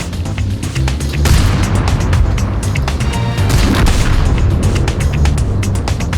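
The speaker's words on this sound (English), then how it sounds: "Deadly ambush fire from the Abbey cuts down the wannabe invaders one after another." Ambush gunfire in a tank video game, with heavy booming shots and crashing impacts that repeat several times over a loud, continuous battle din.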